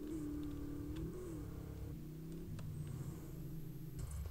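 A sports car in GTA San Andreas accelerating, its engine a steady low rumble with rising and falling revving tones, fairly quiet and continuous with faint ticks, no talk audible.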